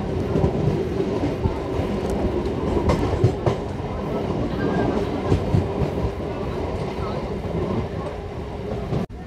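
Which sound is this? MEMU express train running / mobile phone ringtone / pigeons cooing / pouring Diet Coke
MEMU express train running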